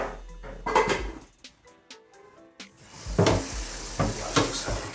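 A cooking pan being fetched from a cupboard in a home kitchen, with a cupboard thump, metal pot clanks and handling knocks at close range, spaced irregularly, followed by denser clattering and scraping of pans.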